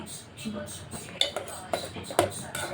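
A utensil stirs and mixes food in a dish with food colour added, giving light clinks and scrapes at an irregular pace, close and fairly soft.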